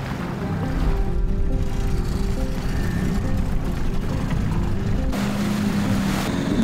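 A traditional Thai longtail boat rides over the sea off Phuket, its motor droning loud and steady beneath rushing wind and splashing water, with no pause in the roar.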